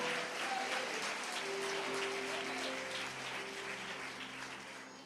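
A church congregation applauding during a celebration service, a soft, continuous patter of many hands heard from a distance, with faint sustained musical tones running beneath.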